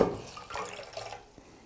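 Drips fall from a cloth dipped in warm water, a soft brief trickle and splash that is faint and fades out within moments, with no talking.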